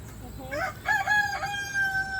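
A rooster crows once nearby, a drawn-out cock-a-doodle-doo rising and trailing off, over quiet background.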